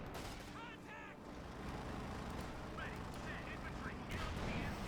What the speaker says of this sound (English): There you go, Panzer Fausting